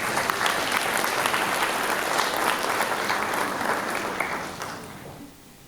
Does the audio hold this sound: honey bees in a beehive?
no